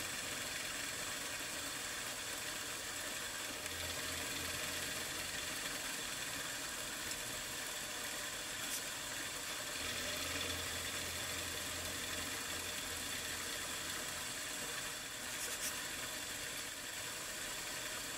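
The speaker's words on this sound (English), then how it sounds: "I can clear out that material with a smaller end mill." A milling machine runs a 3/16 inch end mill down the centre of a slot, a quiet steady motor hum with a low whirring that swells in two stretches as the cut engages.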